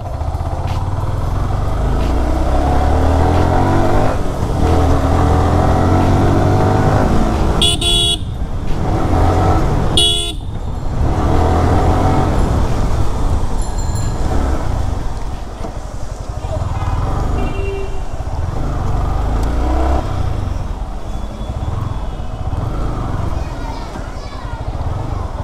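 A Yamaha R15 V3 motorcycle rides in the rain with a constant engine drone and road noise, passing traffic and short horn toots, while someone talks over it.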